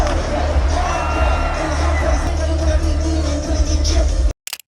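A stadium crowd at a concert cheers and whoops loudly in a dense, continuous roar, then the sound cuts off abruptly near the end.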